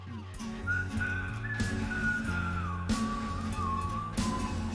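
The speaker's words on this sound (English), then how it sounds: "Our neighbours are whistling outside." Several people whistle a wandering melody together outdoors over a steady low backing of music, with a few sharp knocks breaking in.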